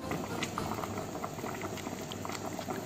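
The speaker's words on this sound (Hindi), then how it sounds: "अच्छे से हमारे पक रहे हैं छोले।" Chickpeas boiling in salted water in a pot for Kathiyawari chana chaat, thickened with a gram flour and cornflour slurry, a steady dense bubbling and popping that runs without pause throughout.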